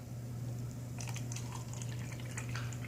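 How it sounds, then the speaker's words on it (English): Kangen water pours into a cup with a steady trickling splash that starts a second in and runs on, close by, over a constant low hum. "And then I'm going to add Kangen water into this one."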